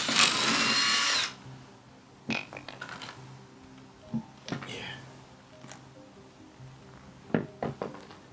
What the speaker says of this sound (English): now I'm trying to drill it from the other end, because I think this is where it's stuck